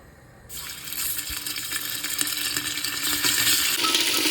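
Meat sizzles loudly in a hot pan while cooking cabbage soup, a steady crackling hiss that starts abruptly and keeps building, with no talking.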